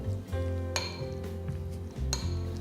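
A spoon clinks and scrapes against a bowl while sandwich roll filling of mayonnaise, salt and pepper is stirred together, a few bright knocks between soft mixing sounds, close and fairly quiet.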